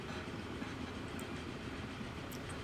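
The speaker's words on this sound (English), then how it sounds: "this is the riding along the coal train route" A coal train rolling along its route in Transport Fever 2, a steady rumbling wash of rail noise with faint clicking on top, even and unbroken.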